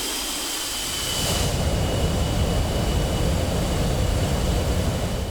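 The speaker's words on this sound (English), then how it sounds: "The jet is started." A jet engine in the DCS World flight sim game spools up from a low rumble into a loud, steady roar with a high whine, running continuously and close.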